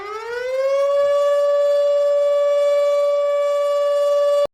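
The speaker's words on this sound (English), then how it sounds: "Next is Civil Defense Siren." A civil defense siren winds up from low to a sustained, loud steady tone with strong harmonics, holding for about four seconds before cutting off abruptly.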